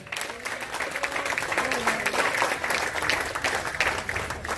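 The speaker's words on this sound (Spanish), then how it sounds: "¿Cuánto le doy un aplauso al Señor por su voluntad?" A church congregation applauds in a continuous wash of clapping, moderately loud, with a few voices and a faint tone underneath.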